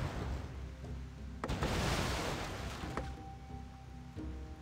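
Ship cannons firing in the pirate video game Pirate Plague of the Dead: a broad booming burst rolls out over steady game ambience, with a sharp onset and a few seconds of decay.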